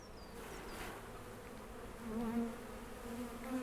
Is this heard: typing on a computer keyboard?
no